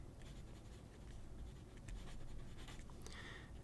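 A KOYOU+ AimVision 0.5 mm mechanical pencil writes on paper close up, giving faint, steady scratchy strokes with small taps, with no talking.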